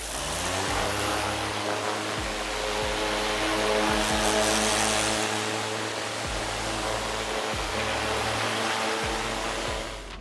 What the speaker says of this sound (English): Now I'm gonna pressure wash this wheel.